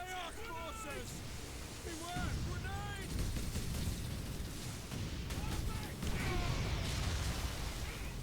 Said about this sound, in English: Shit, autocannon?